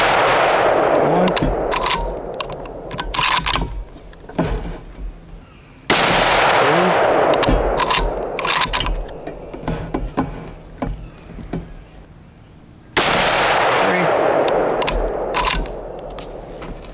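Three loud .30-06 rifle shots with 178-grain Hornady Precision Hunter ammunition ring out about six seconds apart outdoors, each a sharp crack trailing into a long rolling echo.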